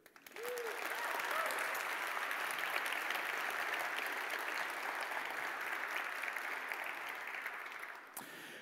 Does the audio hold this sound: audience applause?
yes